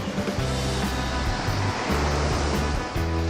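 Sea waves break on the shore with a steady, loud roar of surf. Each crash swells and rolls on without a pause. No voices are heard.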